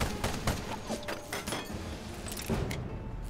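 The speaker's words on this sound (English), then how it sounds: "targeting his engines with my light cannon" In the video game Ironcast, a light cannon fires on an enemy's engines, producing a string of rapid, clattering bursts and metallic mechanical clanks that taper off near the end, with no speech.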